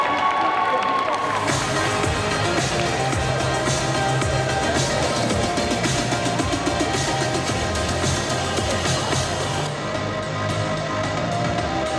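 A crowd at a solo cosplay contest at Made in Asia 2023 applauds and cheers loudly and steadily, with shouts rising over the clapping and fading slightly near the end.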